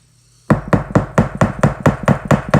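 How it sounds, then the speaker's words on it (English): A fly-tying hair stacker is whacked firmly on a table about nine times in quick, steady succession, each a sharp, close knock, after a brief quiet start. "A few firm whacks on the table"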